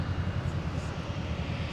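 A Delta airliner on its takeoff roll on runway 17 at Minneapolis–St. Paul airport gives a steady, broad engine roar that fills the whole short moment without a break.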